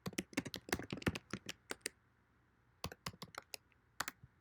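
Fingers type out an address on a computer keyboard, a quick run of close, crisp key clicks that pauses for about a second, then resumes in a shorter burst.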